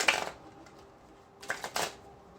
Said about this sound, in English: I already shuffled the deck.